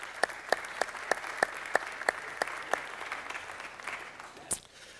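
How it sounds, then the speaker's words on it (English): Audience applause at a city council meeting, a steady wash of clapping hands from a seated crowd, with sharp, evenly spaced beats cutting through, fairly faint and distant throughout, with one louder clap near the end. "Let's give them a round of applause, folks."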